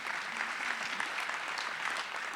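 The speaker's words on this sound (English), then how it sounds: "Yes, applause, please." An audience at a local news summit in Illinois claps in a steady, dense round of applause at moderate volume, with no talking over it.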